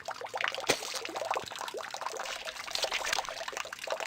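Liquid bubbles and trickles steadily with scattered drips throughout, a continuous wet gurgling from the horror video game Corpse Party: Blood Drive, with no talking.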